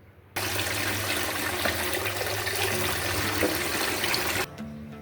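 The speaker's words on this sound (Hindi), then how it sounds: "बाकी सारी आपने बोतल पानी से भर लेनी है" Tap water runs steadily into a bottle being filled, a continuous close rushing stream that starts abruptly and cuts off after about four seconds.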